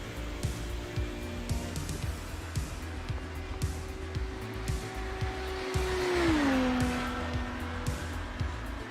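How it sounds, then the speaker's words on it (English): Race cars circling a NASCAR-style oval track, engine drone heard from a distance with a rising, then falling pitch sweep as one car passes around six seconds in, fairly faint overall. "look at this train of cars. They're going to start coming thick and fast now"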